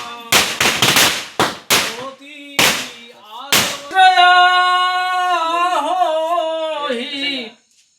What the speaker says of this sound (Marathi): मग लग्न झाल्यावरती आम्ही फटाके लावले।